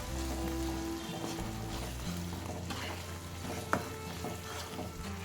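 Coriander powder stirred into a ridge gourd egg curry in a pan, a faint low sizzle with quiet scraping strokes and one brief sharp knock, close by and without talk.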